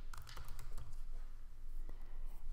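Faint, quick taps from a computer keyboard as a search term is typed into a search field, a short quiet patter of keystrokes with no talk.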